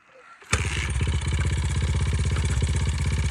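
A Honda XR 100 dirt bike with stock bore and cam starts up after a short silence, then idles close by with a fast, even, slightly uneven thumping putter and mechanical clatter.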